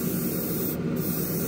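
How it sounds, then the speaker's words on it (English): An airbrush with a 0.2 mm tip spraying paint onto an AMT Corvette ZR1 model car body, a steady close hiss of air with a brief dip partway through. "It gives me a wide enough spray fan"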